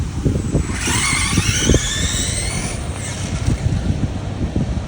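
An RC drag car launches on a windy day, its electric motor rising in a sharp high-pitched whine for about two seconds before cutting off, heard over steady wind noise.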